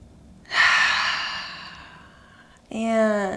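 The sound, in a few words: deep breathing during yoga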